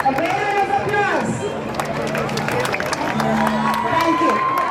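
A lively school assembly crowd cheers and claps, with excited shouts and overlapping chatter throughout. The sound is close and full, with sharp claps scattered under the voices.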